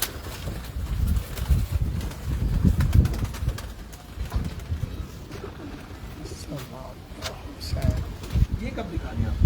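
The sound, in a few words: pigeons cooing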